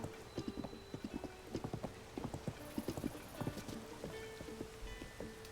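A horse walking at a slow, even pace in Zelda: Tears of the Kingdom, its hooves clip-clopping in a steady run of crisp, close clops with no voices over them.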